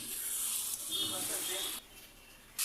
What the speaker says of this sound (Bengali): তো কিছুক্ষণ মাংসটাকে ভালো করে কষিয়ে নেব।